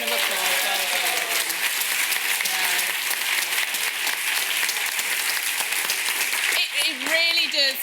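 Loud, sustained audience applause filling a hall at a healthcare innovation pitch event, clapping steadily throughout, with a voice speaking over it near the end.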